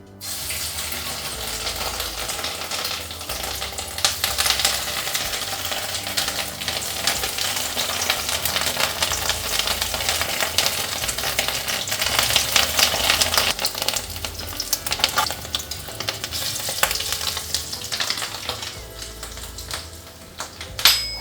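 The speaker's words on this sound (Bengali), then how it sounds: "আজকে একটু বড়াটা ভাজতে হবে তেলটা কিন্তু আমার একটু বেশি লাগবে" Katla fish roe fritters fry in plenty of oil in a wok, giving a steady, dense crackling sizzle that runs throughout with no talking.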